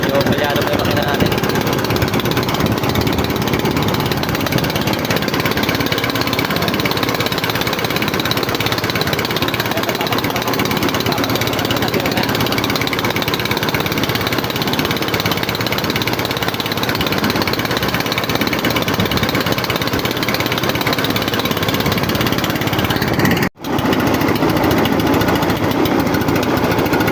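Misfiring engine of a fishing boat heading home, a loud, continuous rough clattering drone that runs unbroken for nearly half a minute with one brief dropout near the end.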